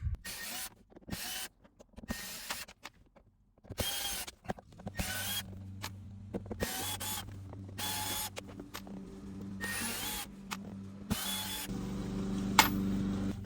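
Phillips head screws are backed out of a GM truck console, with a series of short, sharp mechanical ratcheting and clicking bursts separated by pauses, close and distinct.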